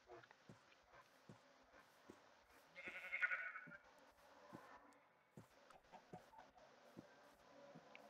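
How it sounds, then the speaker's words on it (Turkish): Sheep in Minecraft bleating once, a short, moderately loud call over quiet ticking game sounds and faint background noise. "Koyunun biri orada."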